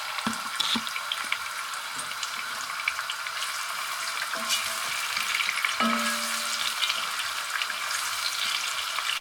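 Onions fry steadily in a pan with a constant close sizzle, broken by occasional clacks and scrapes as a wooden stick stirs them.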